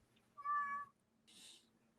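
A cat gives two short meows, the first a clear tonal call and the second a breathier, higher one, close and quiet against a silent background.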